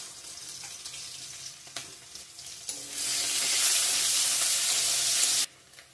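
Bay leaf, onion and panch phoron hit hot oil for tempering, giving a bright, loud hissing sizzle that swells after a few scattered crackles and holds steady before cutting off suddenly near the end.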